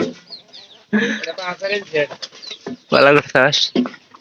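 Chickens clucking close by, a string of short, uneven calls that come in bursts and grow louder toward the end.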